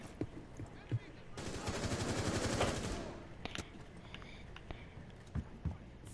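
Automatic gunfire from an F2 rifle in a PS4 shooter game, a sustained burst of rapid shots lasting over a second, with a few scattered single shots and faint game noise around it.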